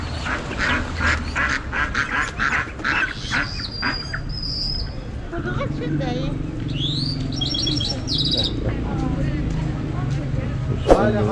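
Local poultry at Pirsara market in Rasht, with clucks, squawks and bird chirps rising repeatedly through a busy market hubbub, close by and under near-constant talk.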